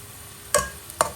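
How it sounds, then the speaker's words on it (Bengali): Chopped onion and garlic fry in a pan under a soft sizzle, broken by two sharp scraping knocks of a spoon stirring the mixture, close by with no talking. "সবগুলোকে ভালোভাবে নেড়ে চেড়ে মিশিয়ে নিচ্ছি"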